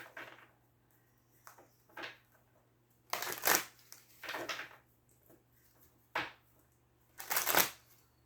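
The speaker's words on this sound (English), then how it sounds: "one more shuffle" Tarot cards are shuffled in several brief rustling, riffling bursts separated by pauses, close and fairly soft, over a quiet low hum.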